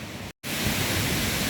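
Waterfall in Chiang Mai, Thailand, a steady broadband roar of falling water, loud and continuous, with a brief dropout near the start.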